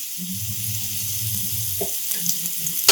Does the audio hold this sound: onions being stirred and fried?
yes